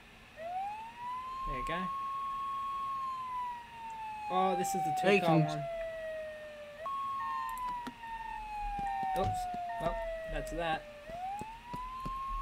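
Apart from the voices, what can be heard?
emergency vehicle siren in Flashing Lights video game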